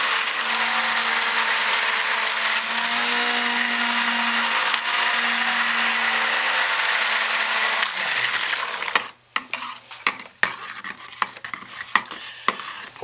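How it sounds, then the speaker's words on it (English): A stick blender whirs loudly through a small batch of soap batter for about nine seconds, then cuts out. A few sharp clatters and taps follow. "This stick blender is a little bit too powerful for this smaller batch."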